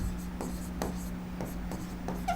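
Writing on a board while teaching a class 12 chemistry lesson: rhythmic strokes and taps of the pen or chalk, close and distinct, over a steady low hum, with no voice.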